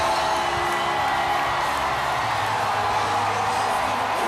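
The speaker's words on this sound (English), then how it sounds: "Listen to the crowd." A large outdoor crowd at the Houston Astros World Series victory parade, a constant wash of cheering, whoops and shouts that stays steady and fairly loud throughout.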